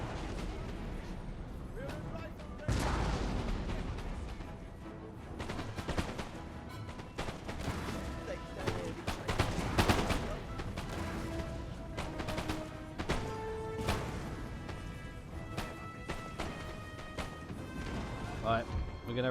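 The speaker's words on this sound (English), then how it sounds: "Alright, guns. Switch to canister shots." Cannons firing canister shot in Napoleon Total War battle, repeated booming blasts and crashing volleys scattered across the scene, with someone talking over much of it.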